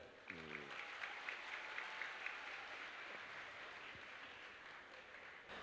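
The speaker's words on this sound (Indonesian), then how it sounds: "tepuk tangan untuk Mas Gibran." An audience applauds at a public civic speech in Surakarta city hall, a steady wash of many hands clapping that carries on throughout, with a brief voice near the start.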